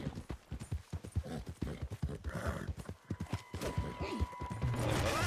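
Horse hooves clip-clopping in a Western video game, a steady run of close, loud hoof thuds with a brief whinny-like tone, and no one talking.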